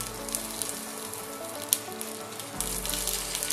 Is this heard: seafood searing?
yes